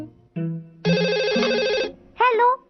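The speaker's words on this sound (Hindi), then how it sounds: "जाकर फोन उठाओ।" A cartoon telephone rings in a loud, close electronic ringtone, several bright tonal bursts of changing pitch separated by short gaps.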